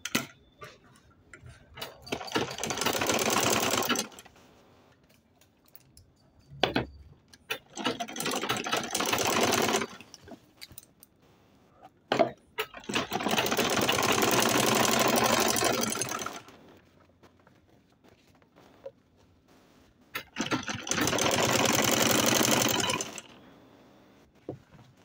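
Sewing machine top-stitching a leather travel bag, running in four sustained loud bursts of steady rapid stitching separated by pauses filled with faint handling clicks.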